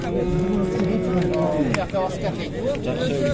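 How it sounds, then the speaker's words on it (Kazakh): Young bull calves at a busy livestock market, moos and bellows rising over a constant crowd murmur, with people talking nearby. "Еркек торпоқтар екен екі өтең."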